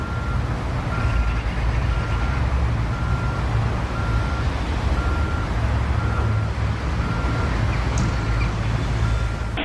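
An excavator towing a car up an icy street gives steady, repeating reversing beeps over a constant loud engine rumble, with no talking.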